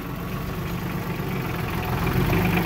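A neighbor's tractor engine idles and runs across the way in slushy, snowy weather, giving a steady low rumble at moderate distance that swells slightly toward the end, with no talking.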